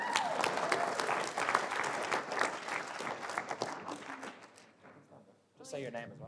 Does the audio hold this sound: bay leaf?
no